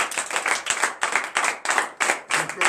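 Worshippers at a morning prayer gathering in Benin clap in loud, rhythmic bursts, roughly a dozen evenly spaced claps close by, each sharp and distinct rather than a blended wash.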